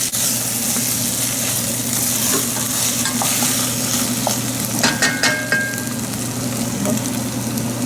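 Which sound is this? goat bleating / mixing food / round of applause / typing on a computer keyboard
mixing food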